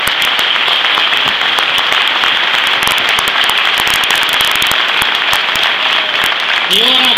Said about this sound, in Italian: meritano un grandissimo applauso